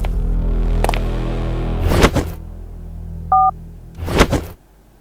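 Telephone dialing tones in an animated drama: a single short two-tone beep sits alone between heavy whooshing and thudding sound effects, with a low rumble underneath.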